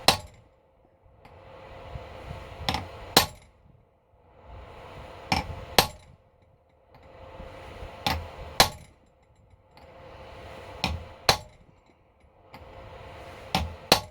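Freeze plugs being hammered into an Austin A35 A-series engine block during a rebuild: sharp metallic hammer strikes come in pairs about every three seconds, each pair after a softer scraping rustle, close and clear.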